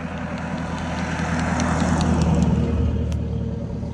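A car engine rumbles steadily while driving on the road, a loud, constant low drone with road noise that swells slightly midway.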